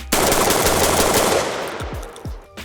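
Orthos Arms S4 semi-auto shotgun, a Benelli M4 clone, firing cheap red Federal ammo outdoors, a loud, close blast that rings and decays with a couple of quick follow-up reports.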